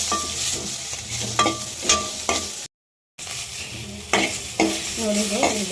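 Chopped tomatoes sizzle steadily in a hot pan with recurring stirring scrapes; the sound is close and loud with no talking, and it drops out for a brief silent gap midway before resuming.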